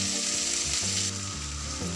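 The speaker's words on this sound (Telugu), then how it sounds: "ఇవన్నీ కలుపుకుంటూ ఒక 2-3 నిమిషాలు వేయించుకోవాలి." Onions and green chillies frying in a pan for masala dosa give a steady, close, loud sizzle with a low bubbling hum underneath, continuous and without any talk.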